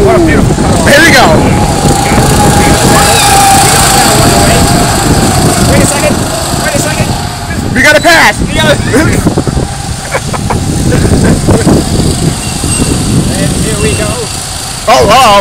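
Go-karts race at Coney Island with a continuous buzz of small engines revving and passing, loud and near, mixed with excited talking throughout.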